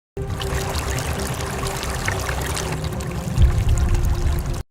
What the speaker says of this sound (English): they could see a river flowing